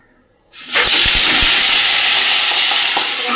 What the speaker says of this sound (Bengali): পাবদা মাছগুলো এক এক করে ছেড়ে দেবো এর মধ্যে।